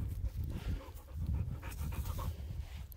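A dog pants close by, with rapid rhythmic breaths repeating steadily throughout and no talk over them.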